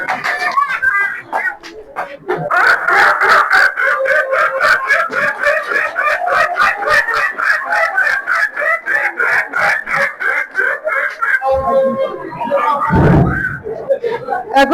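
A person vocally imitates a hen clucking before laying an egg, a long run of rapid, loud, nasal clucks and cackles close to the mic, ending in a brief lower call.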